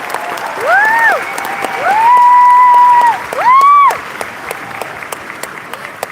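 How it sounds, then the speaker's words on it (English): A crowd at a live Pokémon Trading Card Game event on a main stage breaks into applause in several loud waves, with bright whoops and whistles riding over the clapping. "I just want to give a huge round of applause"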